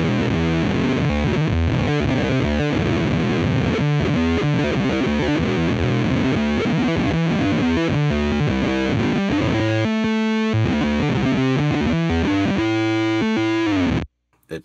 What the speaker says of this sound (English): and now we'll just hear the octave.